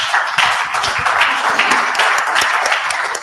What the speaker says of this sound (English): Can you have a big hand?